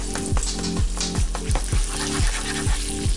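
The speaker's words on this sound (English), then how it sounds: "now that the eggs are all bubbly like this, see?" Eggs frying and sizzling in a pan for an open-face sandwich, a steady close crackling hiss with soft scraping and tapping strokes at regular intervals.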